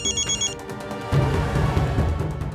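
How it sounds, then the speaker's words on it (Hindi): A mobile phone rings with an incoming call. A bright electronic ringtone sounds in short repeated bursts before louder indoor background noise takes over. "मम्मी क्यों कॉल कर रही है?"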